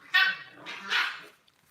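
Dogs barking nearby indoors, two sharp barks in quick succession followed by a faint whimper.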